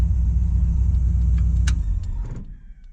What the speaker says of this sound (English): does she diesel when you kill it in park?